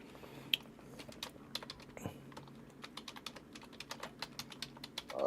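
Keys clatter on a keyboard in an irregular run of quick clicks and taps, moderately close and fairly quiet, with no talking.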